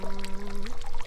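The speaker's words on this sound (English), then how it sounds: "I got an aquarium pump to keep the water flowing" A small aquarium pump drives flowing water through a children's water table, giving a steady pouring gurgle that runs continuously and close by, with no talking.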